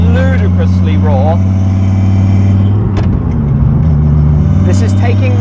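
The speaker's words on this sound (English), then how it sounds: "on the move, this is where we go up into second gear" Car engine droning loudly and steadily up close, then a brief break and shift in pitch around the change into second gear before it pulls on again, with someone talking over it.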